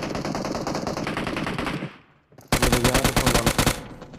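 Rapid bursts of shotgun fire in the battle-royale game PUBG Mobile, a dense volley of loud close shots, a short pause, then another fast run of blasts.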